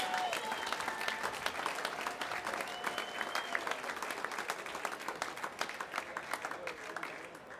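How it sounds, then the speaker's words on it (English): A crowd at an amateur charity boxing event in 2018 claps and applauds the two boxers: dense, loud, sustained clapping with a few whistles that slowly tapers off. "Let's give both boxers a round of applause."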